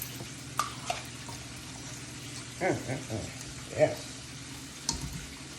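Andouille sausage and corn cooking in a pan, a low sizzle under a few stirring scrapes and clatters, with someone speaking briefly, close by.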